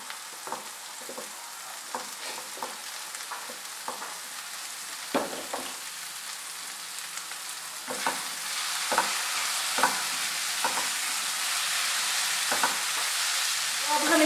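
Paneer fries in oily masala in a pan, with a soft continuous sizzle and irregular scraping knocks from a stirring spoon, close and fairly quiet, with no talking.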